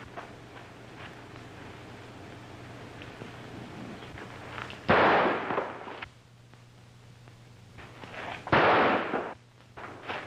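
Gunshots from a classic western film: two loud, sharp bursts ring out a few seconds apart over a low background hum, each trailing off briefly.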